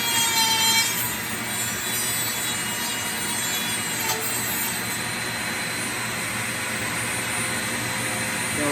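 A die grinder's spinning wheel grinds steadily and loudly, a continuous high-pitched whine with a harsh rasp that holds unbroken for the whole stretch, with no voices.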